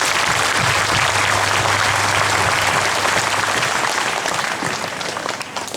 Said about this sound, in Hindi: जोर से ताली बजा।